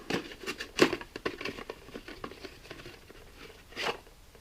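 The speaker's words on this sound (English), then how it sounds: "Get a little plastic bag like this, and take the new oil filter out." Thin plastic bag crinkling as a new oil filter is pulled out during an oil change on a 2005 Honda CR-V, close irregular rustles with a few sharper crackles.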